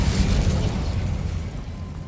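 A Bombarda spell detonates in Hogwarts Legacy, a heavy booming explosion with a deep rumbling low end that rolls on and slowly fades over about two seconds.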